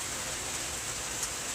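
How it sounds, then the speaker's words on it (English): Steady rain falling outdoors at a theme park, a soft continuous hiss with no distinct drops, fairly faint and even throughout. "Yeah, it is the rain."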